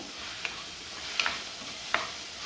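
Tomato and asafoetida sauté in hot oil with a soft, steady low sizzle and a few faint utensil clicks at intervals, quiet and without voices.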